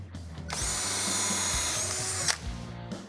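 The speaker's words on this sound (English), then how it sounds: "I'm gonna go ahead and drill a hole there" A power drill drilling a hole on a mini truck whines loudly up close for a couple of seconds, bites in, then winds down and stops, followed by quieter handling noises.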